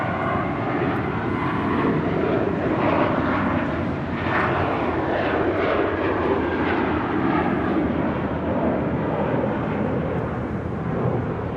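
A Boeing airliner taking off from runway 25 right at LAX, its engines producing a loud, steady broadband roar that holds without break.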